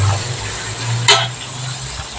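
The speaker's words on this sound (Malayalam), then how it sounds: "ഒരുവിധം നന്നായി വഴങ്ങി വരട്ടെ നമുക്ക് ഇളക്കി കൊടുക്കാം" Sliced onion softening with salt for an egg roast is stirred in a hot pan, a close, steady hiss of frying with one sharp clink of the spoon on the pan midway.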